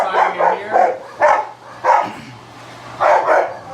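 Several dogs bark close by at a house under renovation, short bursts of two or three barks coming in quick groups with brief quiet gaps between them.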